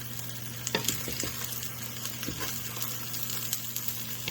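Breakfast taco filling frying in a pan after being flipped, a steady close sizzle with scattered crackles and light scraping stirs throughout, no talking.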